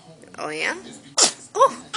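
A baby sneezes in two short bursts, close and fairly loud, with an adult voice talking briefly just before.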